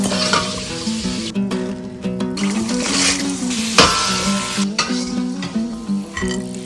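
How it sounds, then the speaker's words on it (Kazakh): Pearl barley, dried for two days, fries in a pan to make Kazakh-style popcorn, a loud continuous sizzle and crackle with metallic stirring scrapes and clinks, close up with no talking. "Енді қазір бұны қуырамын"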